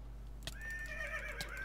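A horse in Minecraft with the Mo' Creatures mod gives a single drawn-out whinny, loud and close, its wavering cry sliding over a low steady background hum.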